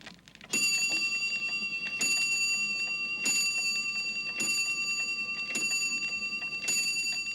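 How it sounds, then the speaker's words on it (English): A shop doorbell rings six times, each a bright, ringing chime that lingers, spaced evenly about a second apart with no voices. "ping went the shop's doorbell"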